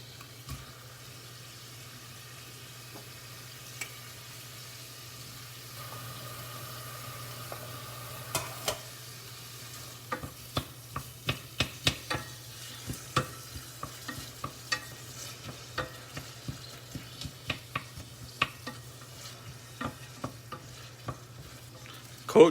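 Onions and garlic frying in a pan for short ribs, a steady low sizzle with a run of sharp scraping and clicking stirs that grow busier in the second half, close and alone without talk.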